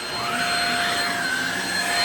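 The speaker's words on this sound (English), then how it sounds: "I love this vacuum due to the fact that it also has a swivel feature where you can move it around" A Shark HV301 Rocket ultra-light corded vacuum cleaner runs continuously, giving a loud, steady high-pitched motor whine with a constant airflow rush.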